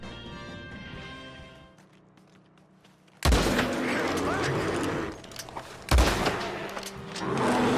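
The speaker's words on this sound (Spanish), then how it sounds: "podemos usar los sonidos de disparos" Sudden bursts of gunfire in Red Dead Redemption 2 break out after a quiet musical passage, two sharp volleys with clattering chaos in between.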